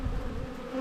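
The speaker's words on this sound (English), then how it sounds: "Bees are going awesome" Bees buzzing around a beehive, a brief, soft, continuous hum close by.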